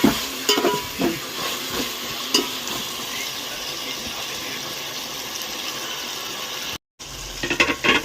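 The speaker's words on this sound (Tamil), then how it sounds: "ஒரு நிமிஷம் ஆயிலே வந்து சிக்கன் வேகட்டும்" Chicken frying in oil in a home kitchen, a steady dense sizzle with stirring clatter and a few sharper scrapes, close and fairly loud, briefly cutting out near the end before resuming.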